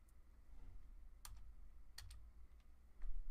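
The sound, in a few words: typing a password on a computer keyboard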